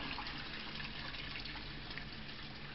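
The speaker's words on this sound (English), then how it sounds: "Is that hose pipe still on, Liam?" Water pours steadily from a hose pipe into a large fish tank, a constant dense gushing rush at low level with no pauses.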